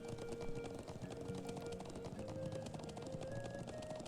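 A horse gallops in the Trails of Cold Steel video game, quick rhythmic hoofbeats clopping continuously at a steady pace over a faint sustained musical tone.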